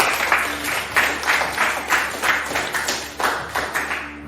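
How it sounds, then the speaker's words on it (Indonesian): Classroom group applause in a steady rhythmic clap pattern, about three beats per second, moderately loud and continuous throughout with no talking over it. "Tepuk tangan dulu."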